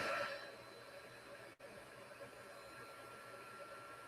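A heat tool for a papercraft project blows a steady, even whoosh of air close by, briefly cutting out for a moment before resuming.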